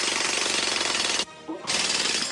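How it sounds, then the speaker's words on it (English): A jackhammer pounds in loud, rapid, continuous bursts, with a brief pause before resuming at full force. "A jackhammer."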